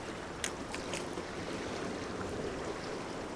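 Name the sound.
waves coming in on water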